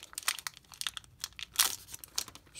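A Pokémon Vivid Voltage booster pack is torn open up close, the foil wrapper crinkling and ripping in rapid, uneven bursts, with one louder tear near the middle.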